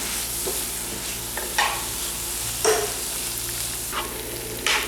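Tomatoes frying in a pan for vegetable macaroni, with a constant close sizzle and a few distinct scraping stirs spaced through it.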